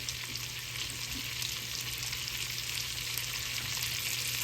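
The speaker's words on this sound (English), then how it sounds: "Now we're gonna throw our onions and celery in there, y'all." Onions, celery and garlic sizzle in a frying pan for smothered beef, a steady close crackling hiss with small pops and stirring sounds and no talking.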